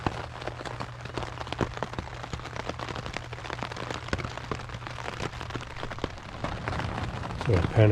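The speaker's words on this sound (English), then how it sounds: "You can hear it's raining." Rain patters steadily on a hastily pitched campsite near the eastern shore of Lake Superior, with scattered sharp drops striking close by and the patter swelling louder toward the end.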